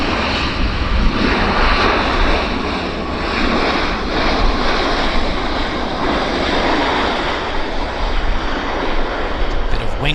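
A Boeing 737 lands at Vancouver Airport, producing a loud, sustained, broadband roar of engines and rushing air that stays steady throughout, with no voices.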